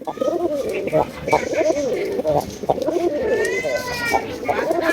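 Gola pigeons, a large-sized pair of a Bangladeshi breed, coo repeatedly in a rhythmic, fairly close series of low throaty calls, with people talking over them and faint background chatter.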